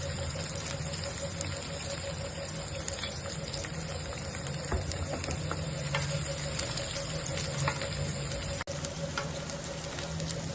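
Onions, carrot pieces and green chillies fry in oil for upma, a steady close sizzle that runs unbroken with light ticking and a faint hum underneath.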